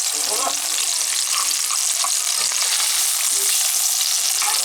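Continuous crackling sizzle of salmon steak searing in a hot pan, steady and fairly close, with faint scraping clicks and no speech.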